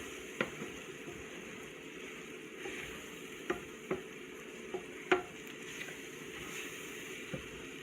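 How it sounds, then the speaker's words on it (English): Flour and milk are stirred together in a pot to make a glossy sauce, heard as a soft steady scraping and stirring with a few light utensil taps against the pan, close and fairly quiet. "we'll start to add the milk slowly. And get this all mixed in together here."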